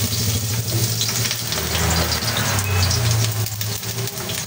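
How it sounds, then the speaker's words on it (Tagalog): Garlic sautéing in hot oil in a pan for lomi, a loud, steady sizzle throughout with no pauses and no speech. "Isa-gisa lang po muna natin hanggang maging golden brown."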